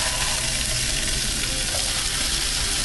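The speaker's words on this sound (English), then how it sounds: "when you got your pan nice and hot, you're just gonna put the sausage in there." Sausages sizzle steadily in a hot pan, a dense, continuous frying hiss that stays loud and even throughout with no talking.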